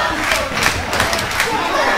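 A packed independent wrestling show crowd in Chino, California, with some fans standing, roars with sustained cheers and jeers. The mixed shouting and yelling stays steady and dense throughout, with no single voice standing out.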